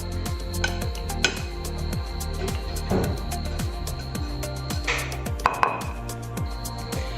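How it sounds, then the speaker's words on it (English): A sharp knife chops onion on a plate in quick, regular strokes, each a crisp tap, with a few louder knocks and occasional soft kitchen clatter in between. "we're gonna chop the onion"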